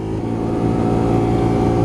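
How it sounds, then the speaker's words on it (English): A Honda VTR250 motorcycle engine drones loudly and steadily for a couple of seconds, a close, continuous rumble. "So there you go, the Honda VTR250."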